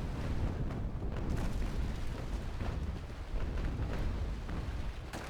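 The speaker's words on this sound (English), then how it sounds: "every single enemy ship is shooting at us" Enemy ships fire cannons in the Naval Action naval battle game, a continuous roar of overlapping booms and rumbling blasts with no pause, heavy low-end thumps layered into a dense barrage.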